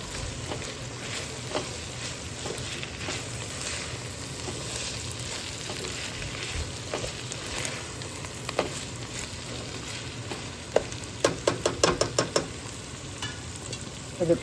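Ivy gourd (dondakaya) fry sizzles steadily in a pan as a utensil stirs it, with soft scraping and a quick run of sharp clinks and taps near the end.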